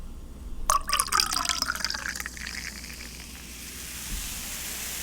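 Champagne poured into a glass, a sudden splashing pour followed by a dense, crackling fizz of bubbles that gradually settles into a steady soft hiss.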